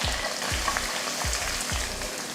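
Onions frying in hot oil with plenty of curry leaves, a steady close sizzle with rhythmic scraping strokes of a spatula about every half second.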